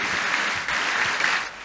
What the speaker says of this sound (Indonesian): Tepuk tangan yang paling meriah buat Tuhan